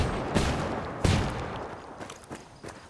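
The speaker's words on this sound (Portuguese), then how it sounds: "estão atirando em mim" Gunfire in a video game PVP match: a few sharp shots crack out irregularly at moderate distance, with quieter thuds and impacts between them.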